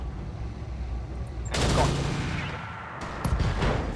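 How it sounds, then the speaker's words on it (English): An AC-10 autocannon fires in the mech game RogueTech BattleTech, a loud rumbling burst of heavy gunfire and booming impacts that erupts after a low background hum and continues with further blasts. "And we'll fire the AC-10."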